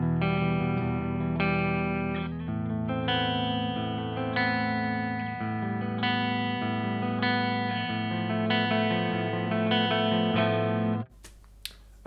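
Electric guitar on the neck pickup through an ENGL E530 preamp and Peavey 6505 power amp, playing sustained distorted chords and notes for about eleven seconds before cutting off abruptly.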